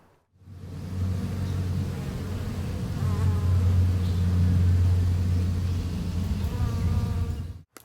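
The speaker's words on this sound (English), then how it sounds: "So we're going to install this package of bees a little bit differently in this hive than we did the other ones." A package of honeybees being installed in a hive makes a dense, steady buzzing hum close by, swelling slightly and then cutting off sharply at the end.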